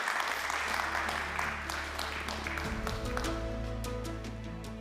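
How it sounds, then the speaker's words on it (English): Audience applause as a speaker leaves the stage at a Danube forum event in Wachau: steady, moderate clapping across the room, with a low sustained hum from the sound system underneath. "I think a round of applause to accompany Hajnová from the stage."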